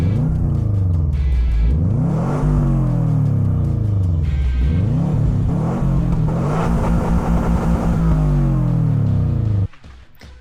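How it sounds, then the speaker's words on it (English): A Subaru engine revs repeatedly through its stock exhaust, rising and falling in several sharp sweeps before cutting off abruptly near the end. "we'll get a nice sound from the stock exhaust"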